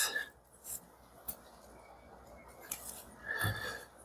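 Scissors snip a fly-tying leg to length, giving a few short, faint cuts separated by quiet pauses, close and isolated with no talk.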